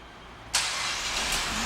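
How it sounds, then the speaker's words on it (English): A 2011 Cadillac SRX engine, started by remote start, cranks and fires with a sudden loud burst after a quiet moment, then settles into a steady, close idle. "the vehicle starts right up"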